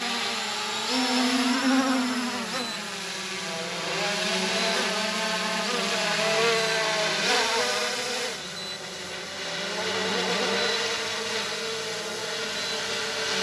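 A Ruko F11 GIM 2 drone flies nearby, a continuous whining buzz of small motors that rises and falls in pitch as it maneuvers.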